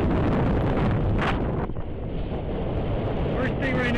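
Heavy wind buffeting a microphone outdoors beside a road, a loud continuous low rumble with gusty surges throughout.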